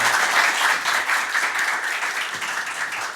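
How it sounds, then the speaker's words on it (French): Audience applause after results are announced at a competition match, dense continuous clapping that stays loud and even throughout. "je vous demande d'applaudir"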